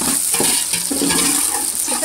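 Onions frying in a pan for spicy chana rice, a steady loud hiss and sizzle with scraping stirs of a spoon throughout, no talking.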